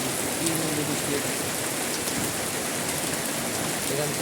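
Heavy rain pours down in a steady, dense hiss that fills the whole scene at close range, with a few faint voices underneath.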